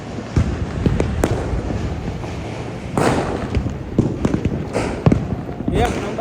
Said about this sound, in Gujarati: મસ્ત કેટલા ફટાકડા છે.